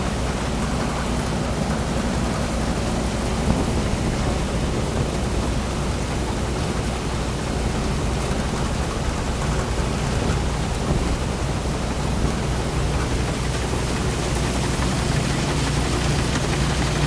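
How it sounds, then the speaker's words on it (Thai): Rain falls during a rice harvest in Thailand: a dense, loud, even hiss of rainfall lasts the whole clip, steady and close, with no voices. "ฝนตกไปแล้วเปียกแล้วครับถนนเปียกแล้วครับ"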